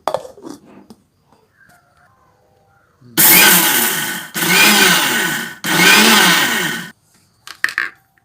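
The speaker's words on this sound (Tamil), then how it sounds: "மிக்சி ஜாரில் அடியில் அப்படியே பிடிச்சிக்கும் அதனால் விட்டு விட்டு அடிச்சு விட்டுருவோம்" Mixer grinder blending sesame seeds in three short loud bursts separated by brief pauses, with quiet handling noises before and after.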